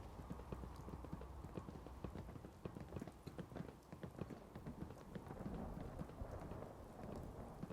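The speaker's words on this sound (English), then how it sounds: "their happiness is going to go down because they're getting rained on right now" Steady rain falls in a survival run of Fallout 4, a dense hiss of drops pattering on surfaces with rumbling low thunder, close and continuous throughout with no talk.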